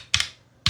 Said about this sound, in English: I'm just typing in 5 because I'm feared in case it doesn't work